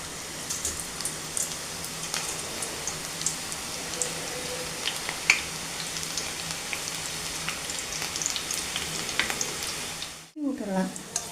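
Onion pakoda batter frying in hot oil, a steady close crackling sizzle with scattered pops that runs throughout before a brief dip and a shifting stir near the end.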